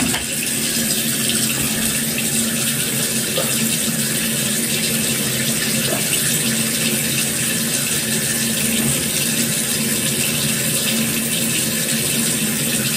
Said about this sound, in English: Let's re-rinse our bar so we can put it back.